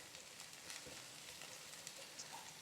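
Cabbage sautéing in a pan for a roasted butternut squash, carrot and cabbage soup, giving a soft, steady sizzle that runs throughout, with faint scraping as the pieces are spread out, and no talking.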